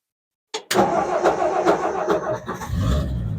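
A 1963 Ford F-100 pickup engine cranks briefly and catches, settling into a loud, close, rough idle with uneven pulses, starting abruptly after a moment of silence.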